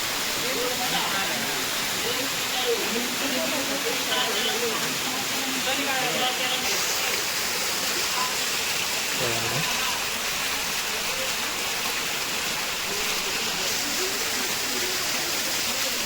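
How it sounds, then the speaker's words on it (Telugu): A waterfall near Japali Anjaneya Swamy temple in Tirumala roars steadily, a dense continuous rushing of falling water filling the scene, with faint voices briefly audible beneath it. "జలపాతాలు"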